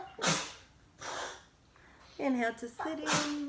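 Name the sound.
sneeze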